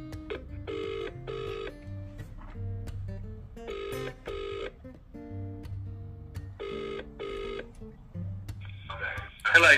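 Telephone tones repeat in short double bursts with pauses between them, like a ringback pattern after a call is placed to a coin shop, steady and clear with a brief louder noise at the end.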